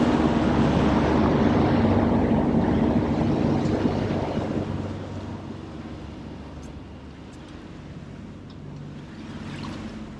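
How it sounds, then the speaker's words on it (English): A sailboat motors across the open sea, a steady engine drone and rushing water and wind noise filling the scene, loud at first and easing somewhat after the midpoint, with no talking. "Motoring. Wish we were sailing."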